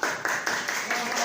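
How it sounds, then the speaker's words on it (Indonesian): A language class clapping hands together, a brief burst of dense, fairly soft applause from a group in a room. "Ya, tepuk tangan deh."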